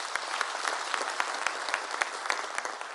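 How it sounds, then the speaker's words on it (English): A crowd claps at an ANC provincial conference, steady dense applause that holds at an even level throughout, moderately loud and without voices. "administration of Comrade Cyril Ramaphosa deserves a nice round of applause for that."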